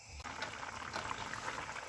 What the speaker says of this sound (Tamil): இப்போ நாங்களுக்கு மறுபடியும் கொஞ்சம் கொதிக்க வச்சுக்கொள்வோம்.